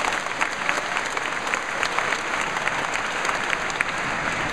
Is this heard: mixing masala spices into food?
no